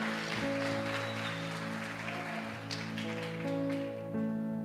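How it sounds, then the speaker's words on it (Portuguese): A church congregation at an evening worship service applauds, a soft continuous patter of many hands beneath sustained keyboard or organ tones, fairly quiet and even throughout. "Aplauda o nome de Jesus bem forte nessa noite."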